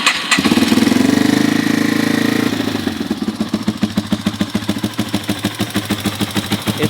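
An old, long-abandoned Yamaha TW200 motorcycle on reserve fuel with the choke pulled cranks briefly with a whirring starter, catches, and settles into a loud, close, steady single-cylinder idle with an even pulsing beat.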